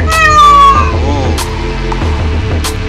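A peacock in mating season gives a loud, wailing, cat-like scream with a falling pitch, near and up close, followed by a lower warbling call and a steady background hum.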